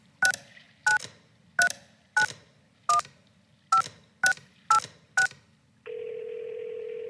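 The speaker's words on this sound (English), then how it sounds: "You can actually dial this just on your regular phone." Keypad tones from a telephone in the game Kentucky Route Zero: nine crisp, evenly paced dialing beeps, one after another, followed by a steady sustained dial tone, close and clean with no voices.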